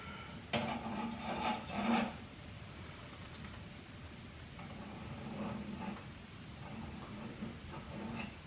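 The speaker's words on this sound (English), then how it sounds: "I'm going to clean the excess adhesive off now" Excess adhesive is wiped off a shower head fitting in quiet, close rubbing strokes, a couple of firmer rasping passes early on, then lighter scrubbing.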